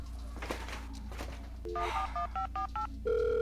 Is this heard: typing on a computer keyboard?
no